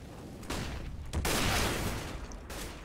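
Rapid gunfire bursts from the Counter-Strike video game on the Inferno map during a competitive esports match, dense volleys swelling and fading over a few seconds with no talk.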